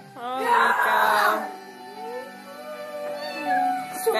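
An upset, angry cat gives loud drawn-out meows and wailing cries, strongest early on, then softer moaning yowls that continue to the end with no talk.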